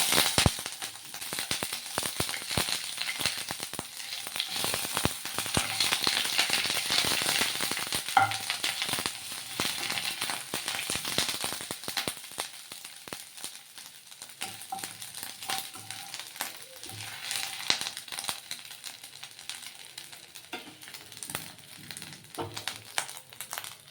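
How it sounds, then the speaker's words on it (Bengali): Crushed ginger frying in hot oil for a fish head dal, giving a steady, loud sizzle with crackles and pops through the whole stretch, no voices. "একটু আদা থেতো করা এটা দিয়ে দেবো"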